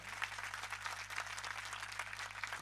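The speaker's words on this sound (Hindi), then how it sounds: "ताली ते जोर दी बजाओ," Congregation clapping at a thanksgiving first Holy Mass, a dense, steady wash of many hands over a low constant hum, fairly loud throughout.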